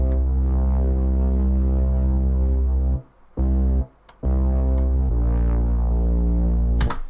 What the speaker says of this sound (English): got a nice deep low and rumble from the sub bass